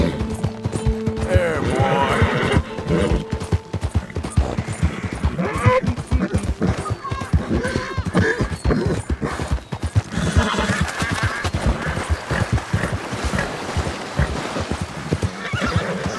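A horse neighs loudly near the start, followed by steady clip-clopping hooves and rattling wagon gear sounds continuing throughout, in the video game Red Dead Redemption 2.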